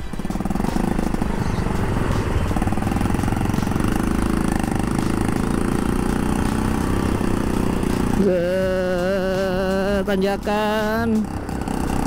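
A Honda Monkey 50cc motorcycle engine drones steadily and loudly while climbing a hill, its rough buzz warbling and straining near the end as the rider slows and shifts down, with a voice speaking over it.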